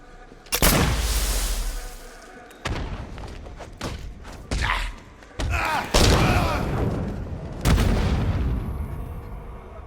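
Gunfire and a grenade explosion from the Batman Arkham Knight video game: a sequence of heavy booms and thuds, some sharp and close, separated by brief lulls, with voices faintly in the mix.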